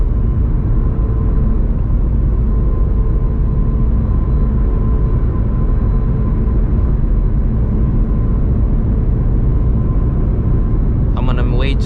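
Procharged Mustang under a third-gear pull, a loud, steady engine roar with heavy low rumble held throughout, heard from inside the car.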